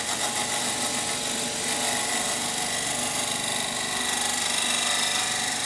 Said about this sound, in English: I'm going to be doing a shearing cut on this now, and I'll put the speed up a bit